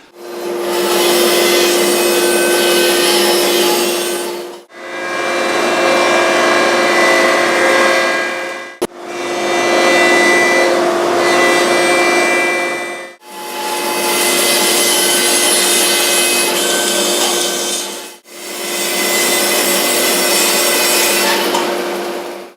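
Bandsaw ripping 3 1/4 to 3.5 inch strips off the sides of wooden boards, heard as five long, loud, steady cutting passes with brief pauses between them. No one talks.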